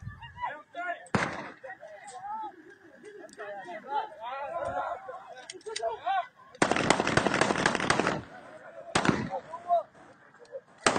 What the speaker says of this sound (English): Nothing like a little celebratory gunfire.